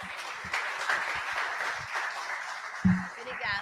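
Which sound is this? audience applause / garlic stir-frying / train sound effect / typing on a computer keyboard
audience applause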